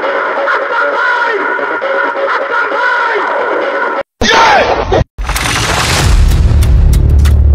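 A single loud gunshot bursts in suddenly after a short silence and rings out with a rumbling decay, while voices and tonal sounds fill the moments before it.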